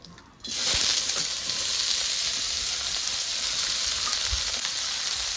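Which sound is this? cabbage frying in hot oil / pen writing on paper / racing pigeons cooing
cabbage frying in hot oil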